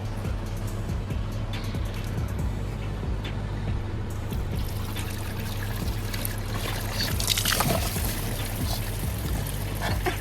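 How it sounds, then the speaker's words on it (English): Fluid drains from a pipe on a car during a body lift job, a continuous pouring and trickling splash against a low steady background, growing a little louder toward the end. "take this pipe off once it's all drained out"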